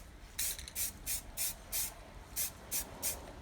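Short bursts of aerosol spray paint hiss at close range, about eight quick evenly spaced sprays while painting an N scale model turntable and roundhouse.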